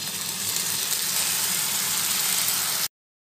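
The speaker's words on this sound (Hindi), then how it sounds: "पराठे के ऊपर हम अंडे के मिक्सचर को डालेंगे।" Continuous loud, broadband sizzle as egg mixture fries on top of a paratha in a pan, holding steady for almost three seconds and then cutting off abruptly.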